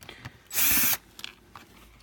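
Power drill driving out a screw from a sensor box: a single short, loud whir lasting under half a second, with faint clicks and handling noises before and after.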